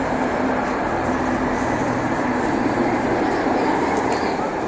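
A train runs through an underground railway tunnel in Antwerp: a steady, loud, close rumble and roar with faint wheel squeal on top, continuous throughout.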